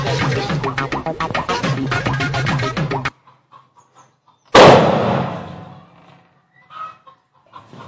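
A firecracker bursting in a street with a single sharp loud bang cutting in abruptly after a stretch of hen clucking, followed by a fading rumble and faint scattered sounds.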